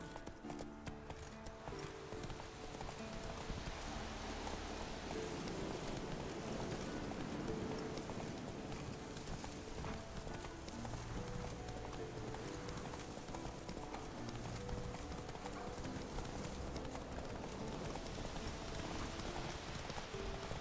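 A horse trots in the Witcher 3 video game, its hooves clip-clopping in a steady, continuous rhythm throughout, layered over a constant rain-like ambient wash.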